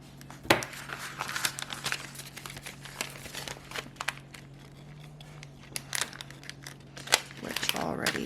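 Transfer paper is handled, giving close crinkling and rustling with sharp crackles through a low steady hum.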